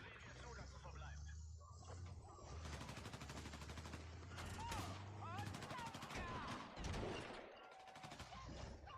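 Bursts of gunfire in the Battlefield 6 video game, rapid automatic volleys and separate shots crackling through a busy battlefield mix, with excited German talk from the players over the shooting.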